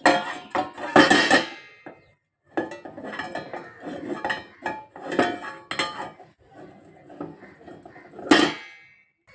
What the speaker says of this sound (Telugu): ఇప్పుడు గిన్నె పెట్టుకున్నాం కదా